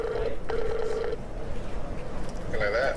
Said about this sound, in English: Let's give him a ring.